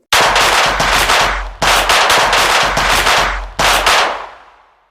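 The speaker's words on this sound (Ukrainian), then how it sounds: "вони нас стріляють" Loud, sustained bursts of video game automatic gunfire blast in three long volleys with brief gaps, the last one trailing off into silence.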